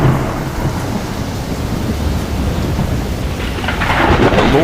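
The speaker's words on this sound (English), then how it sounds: "the Lord sent a wild and violent storm" A violent storm with a heavy thunder rumble and dense rain, loud and continuous, building toward a brighter crash near the end.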